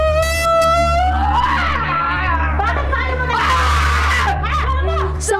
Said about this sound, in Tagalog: sa kubong ito sa isang sulok ng compound nagmula ang nakababahalang sigaw